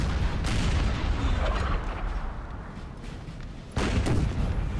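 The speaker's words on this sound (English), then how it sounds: "How many cannons we got here?" Cannon artillery fire in Napoleon Total War, 6-pounder guns booming in heavy, dense bursts that fill the mix, with a lull before another loud barrage near the end.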